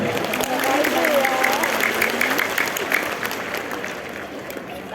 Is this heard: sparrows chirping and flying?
no